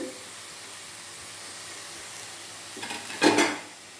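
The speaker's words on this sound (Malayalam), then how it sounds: "ഒന്ന് പതിയെ ഇളക്കി പതിയെ ഇളക്കി കൂട്ടി" Spinach stir-fry cooks in a pan with a steady low sizzle. Near the end comes a brief, louder burst of stirring and scraping, then the sound settles back to a gentle hiss.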